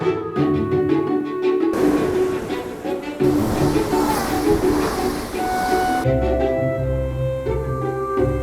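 A Swiss passenger train heading back toward Zurich from Coppet rumbles and rattles steadily in a continuous loud onboard roar, with shifting wheel and track noise.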